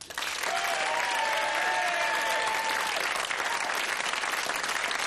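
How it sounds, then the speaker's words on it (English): Loud, sustained applause from a large television studio audience on the game show Blockbusters fills the whole stretch, with a few brief whistles or cheers rising in the first few seconds. "So, without further ado, another round of applause"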